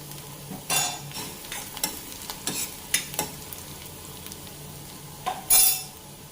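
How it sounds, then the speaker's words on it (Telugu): Onions frying with turmeric in a pan for an idli snack, a steady sizzle under repeated scraping stirs and clinks of a utensil against the pan. "సో ఆనియన్ ఒక ఫిఫ్టీ పర్సెంట్ ఫ్రై అయితే సరిపోతుంది"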